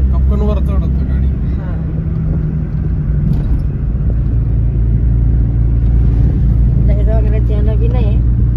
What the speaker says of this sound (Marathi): कप्पनवर चढत गाडी.